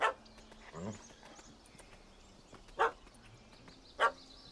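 A puppy barks in The Witcher 3 game world, a few short, sharp yaps spaced apart over quiet ambient background, fairly near and moderately loud.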